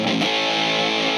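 An electric guitar played through a Monkey FX overdrive distortion pedal rings out as a single sustained, heavily driven chord, thick and buzzing with harmonics, holding at full volume alone.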